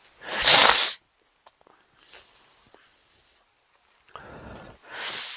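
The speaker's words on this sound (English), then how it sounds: "So apologize for my sniffling." A sharp, breathy snort through the nose at the start, then quiet sniffles, and two more nasal snorts near the end.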